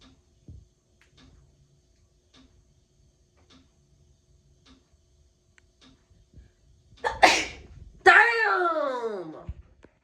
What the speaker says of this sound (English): And I can't stop sneezing, so.